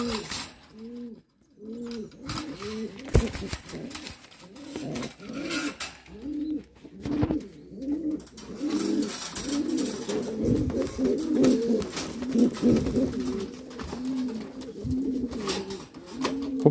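Pigeons coo in repeated soft, rhythmic bursts, close by and fairly steady, with a few scuffling sounds and brief bird movement around them.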